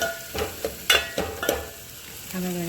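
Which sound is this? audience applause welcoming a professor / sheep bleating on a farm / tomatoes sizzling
tomatoes sizzling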